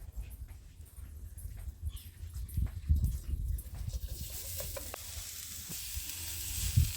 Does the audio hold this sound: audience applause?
no